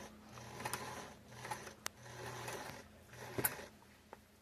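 A sewing machine stitches quilt binding in short, quiet runs of a low mechanical hum, separated by pauses and small clicks.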